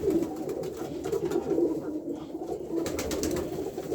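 Pigeons in a loft, including Budapest pigeons, coo steadily and loudly, with overlapping soft, rolling calls and no pauses.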